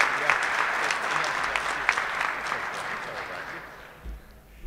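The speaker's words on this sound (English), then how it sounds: "can we give the chief a round of applause?" An audience at a Rotary club firefighter appreciation meeting claps for the fire chief, steady dense applause from a room full of people that gradually thins and fades out near the end.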